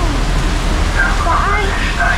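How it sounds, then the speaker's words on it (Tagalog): Heavy rain pours down in a steady broadband hiss outdoors near a bus stop in Tel Aviv, constant and loud throughout, with faint voices and brief tonal sounds in the background. "ang lakas ng ulan"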